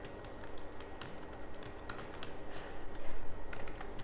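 Typing on a computer keyboard while entering Hindi text in WordPad during a computer class, with steady, quick key taps and scattered sharper clicks, close and fairly quiet, growing a bit louder toward the end.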